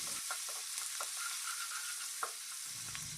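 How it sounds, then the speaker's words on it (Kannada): Onions and green chillies fry in a pan for a chana masala, giving a steady close sizzle with a few light scrapes of stirring and no voices. "ಕಟ್ ಮಾಡಿ ಇಟ್ಕೊಂಡಿರೋ ಈರುಳ್ಳಿ ಮತ್ತು ಹಸಿರು ಮೆಣಸಿನ್ಕಾಯಿನ ಆ್ಯಡ್ ಮಾಡ್ಕೊಳ್ಳೋಣ ಮತ್ತು ಇದನ್ನು ಚೆನ್ನಾಗಿ ಫ್ರೈ ಮಾಡ್ಕೋಬೇಕು"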